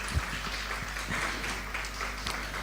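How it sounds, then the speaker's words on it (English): An audience at a women in journalism conference applauds its speakers, with soft, fairly distant clapping spread evenly through a short stretch over a low steady hum. "Please, let's give us a round of applause for our incredible speakers."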